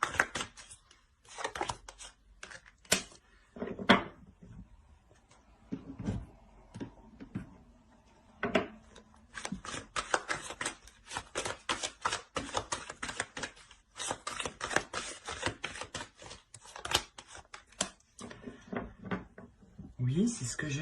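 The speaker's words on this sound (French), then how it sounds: "Je vais rajouter une carte." Tarot cards handled and shuffled during a reading: a continuous patter of close, crisp card flicks and taps throughout, with a voice speaking over them.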